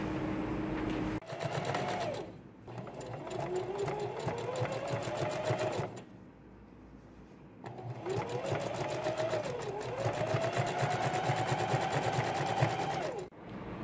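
Sewing machine running a long straight seam with a high stitch length on a girl's Snow White dress, rapid rhythmic mechanical whirring in two long bursts separated by a brief pause, close and fairly loud.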